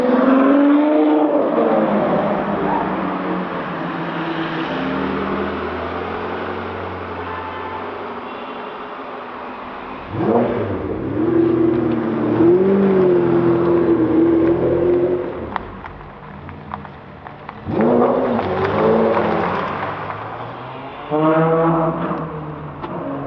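A Porsche GT3 fitted with a full iPE F1 exhaust drives and revs hard, loud and close, rising and falling in long climbing sweeps with sharp bursts of acceleration and brief lifts between them.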